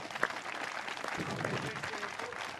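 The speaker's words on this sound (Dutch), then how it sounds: "Iedereen een applaus." An audience at a village competition event applauds continuously throughout, a broad, steady wash of many hands clapping at moderate volume with faint crowd murmur and a voice briefly audible.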